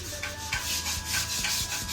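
Steady scratchy rubbing of sandpaper on a wooden door after its first coat, a continuous back-and-forth rasp with rhythmic strokes, close by and fairly loud.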